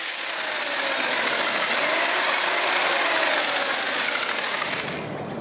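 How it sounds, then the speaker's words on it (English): Cement mixer turning a bent rod with a skipping rope tied to one end, giving a loud, steady motorized whirring and rattling drone that holds for about five seconds before easing off slightly at the end. "I think I know where I want to start, with this cement mixer"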